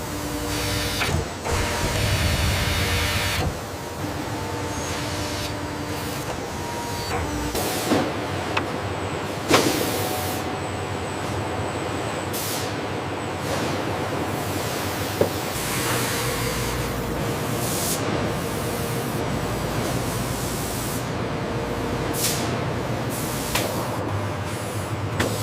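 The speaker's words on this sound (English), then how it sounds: "Diamond-tipped cutters rapidly shape the complex tenon profiles onto the dot components." Diamond-tipped cutters shaping tenon profiles on African padauk door parts give a steady, loud industrial whir and hiss that runs throughout, with a few brief sharper bursts and clicks along the way.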